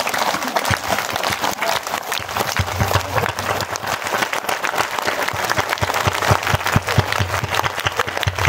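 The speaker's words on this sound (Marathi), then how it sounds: "तुम्ही टाळ्या वाजवल्या ना, ज्यांनी ज्यांनी जोरात टाळ्या वाजवल्या असतील इमानदारीनं" A large audience at a devotional kirtan gathering claps loudly and steadily, a dense, continuous roar of hands that holds at full strength for the whole stretch without pause.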